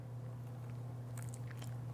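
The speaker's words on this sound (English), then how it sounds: "I'm gonna take a little bite and see how it is" A bite into homemade pizza with a quick no-rise crust gives a short run of soft crunchy bites and chews near the end, close up over a steady low hum.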